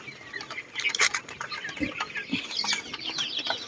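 Backyard chickens, cobra and silky breeds among them, cluck and chatter at close range in short, irregular bursts, with scattered sharper calls over a quiet background.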